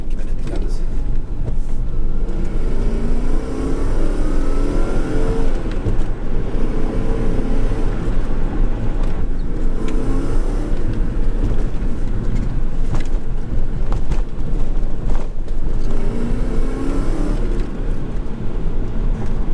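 A 1995 BMW 540i E34 with its V8 pulled hard at full throttle, engine note rising through long sweeps and dropping between gear changes, loud and continuous with heavy road and wind roar.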